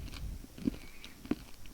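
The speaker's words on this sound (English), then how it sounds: "Will you crunch on my snowball?" Someone bites into a snowball, giving two brief, soft crunches close to the listener against a low background murmur.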